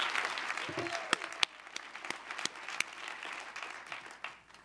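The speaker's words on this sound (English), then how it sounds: "Please give a big round of applause To all the after-school all-stars in the room." An audience at the 2015 National After-School Summit applauds the After-School All-Stars, a dense patter of clapping with a few louder claps standing out before it fades away at the end.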